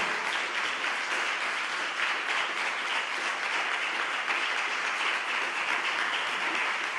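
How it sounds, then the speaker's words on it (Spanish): Steady, dense applause from a live concert audience in a hall, honouring a pianist, sustained evenly at full strength throughout without letting up. "Fuerte el aplauso para él."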